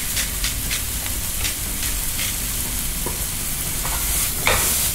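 Salt and pepper smelt frying in a pan, stirred with steady scraping and a constant bright sizzle throughout, a few sharper clinks near the end, no voices.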